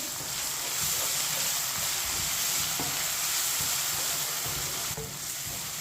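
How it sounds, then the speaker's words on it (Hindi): Crushed ginger and garlic stirred into frying onions for green chilli rice, a steady close sizzle with the scrape of a spoon moving through the pan, continuous throughout with no talking. "2 चम्मच अदरक और लहसुन कुटा हुआ मिक्स कर लेंगे।"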